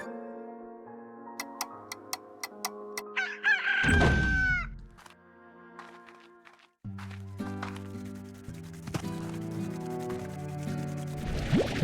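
Chicken clucks and a rooster crow from the farm in the video game Slime Rancher, sounding alongside bright chiming game tones and a soft thunk, over a steady synthesized background.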